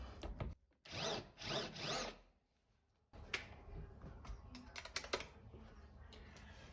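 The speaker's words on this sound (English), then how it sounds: "Give it an extra countersink because I'm going to fill the hole afterwards." A power drill countersinks a screw hole in wood during a spring latch repair: a loud whirring burst of several seconds, then a short quiet pause and a longer stretch of rougher, uneven drilling and scraping.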